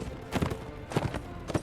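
Horse hooves in the video game Mount & Blade: Warband: a few soft clip-clop footfalls land in short clusters, fairly quiet and unaccompanied by speech.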